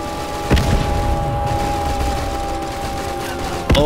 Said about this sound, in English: we're taking machine gun fire from the other side of town there